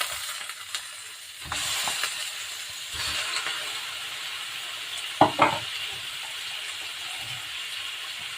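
Chicken pieces hit a hot pan for chicken tinola and sizzle steadily, with stirring, scraping and a couple of sharp metallic clinks partway through and no voices.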